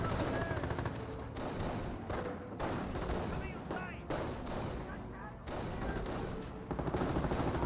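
Machine-gun and rifle fire in the World War II strategy game Company of Heroes, rapid bursts and thuds of battle running continuously at moderate level.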